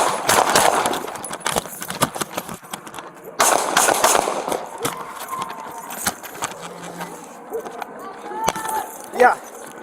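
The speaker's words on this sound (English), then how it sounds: "Shots fired" Sharp gunshots crack out in bursts during a SWAT shootout, a dense volley at the start and another a few seconds later, with scattered single reports and shouting voices throughout.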